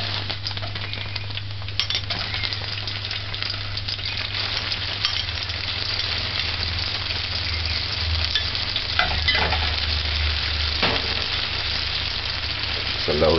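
Onions sautéing in a few tablespoons of oil for corned beef stew, a dense, steady close sizzle with scattered crackles and faint utensil taps running throughout under a constant low hum.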